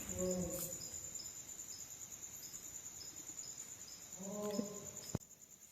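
Crickets chirp at night in a Konkan village during the cold season, a steady high trill running throughout with faint rustles and a few distant low calls, and a sharp click near the end.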